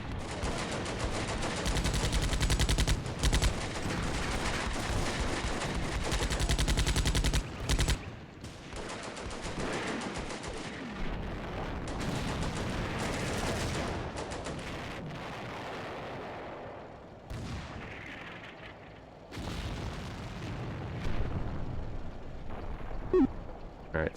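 A full battle in the World War II game Combat Mission: Beyond Overlord: dense, continuous machine-gun bursts and rifle fire, with heavier blasts and artillery rumbles that rise and fall over about twenty seconds.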